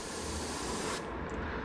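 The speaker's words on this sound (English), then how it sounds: "you tend to spray like this with your helping hands at an off angle" Steady aerosol spray hisses loud and close while a fishing lure is painted, cutting off sharply about a second in and leaving faint residual hiss.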